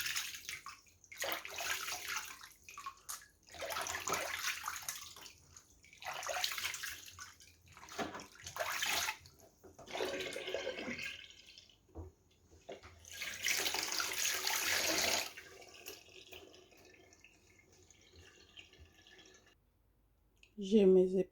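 Water runs in bursts from a tap while catfish is cleaned, splashing loudly in several separate rushes with quieter gaps and a faint click near the end.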